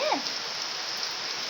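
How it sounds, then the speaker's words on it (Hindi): Heavy rain pours in a dense, steady hiss, with a brief chirp-like sound at the very start. "बारिश बहुत तेज हो रहा है"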